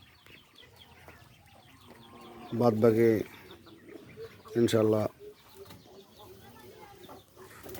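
Laying hens clucking as they feed, heard in short, intermittent bursts mixed with someone talking nearby.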